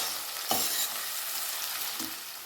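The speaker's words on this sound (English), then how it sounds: "Season with a bit of salt and cook this till the onions are light brown in color." Onions fry in a pan for a jackfruit and potato curry, with a bright continuous sizzle close by and two soft stirring knocks.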